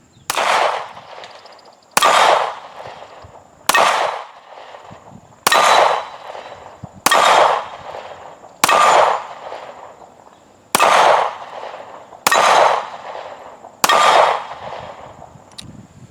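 Nine sharp pistol shots from a handgun fitted with an extended magazine, fired at an even pace about every two seconds, each a loud crack with a short ringing tail, and no voices.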